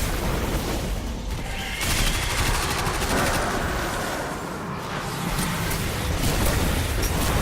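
Rapid close-range fire from an SMG in Destiny 2, dense sustained bursts of shots blending into a loud, continuous rattle with booming impacts throughout.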